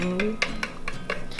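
Baking dough batter with egg and baking powder being mixed in a bowl, a regular series of scraping, clinking utensil strokes against the bowl about every quarter second, close and moderately loud, with a brief voice at the start.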